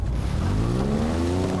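The Warthog vehicle in Halo Infinite revs up, its engine pitch rising smoothly over a brief, loud, close stretch with no talking.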